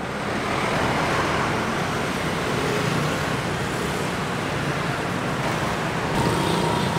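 Dense road traffic in Ho Chi Minh City makes a steady, loud, unbroken roar of engines and tyres, with no pause and no talk.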